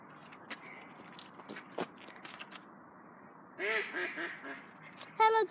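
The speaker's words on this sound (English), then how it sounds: "Oh, look at those ducks over there." Ducks quack in a short burst of several loud calls near the end, heard outdoors on a dog walk after quiet footsteps and scattered small sounds.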